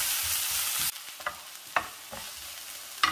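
Crushed ginger and garlic sauté in a pan for a bitter gourd and raw mango milk curry, opening with a loud hissing burst that drops to a gentle crackle broken by a few sharp utensil scrapes.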